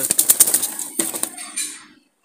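A quick burst of wing flaps, a Jalali pigeon beating its wings rapidly up close, then a shorter flurry before it fades to quiet.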